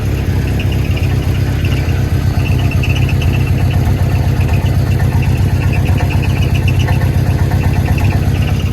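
An old Volvo 240 idles steadily on stale gasoline, its engine rumbling evenly up close with a loose exhaust rattling faintly throughout, no voices over it.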